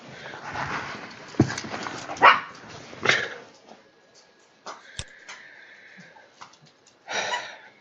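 A dog in a video game barks and whimpers: several sharp yelps and barks come in uneven bursts, then softer whines and quieter stretches.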